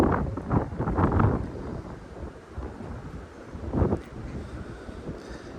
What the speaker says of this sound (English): it is really windy right now